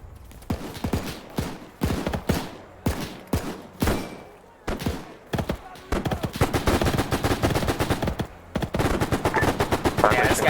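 Rapid machine-gun bursts and heavy gunfire in a Henderson Airfield battle game, artillery booming among them; loud, dense fire that starts as separated volleys and becomes nearly continuous toward the end.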